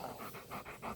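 A dog pants in quick rhythmic breaths, steady and close throughout, with no voices over it.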